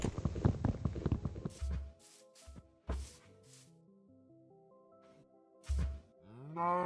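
A cow in the Minecraft video game lets out a few low, drawn-out moos, close and fairly loud, separated by short thumping bursts and quiet gaps.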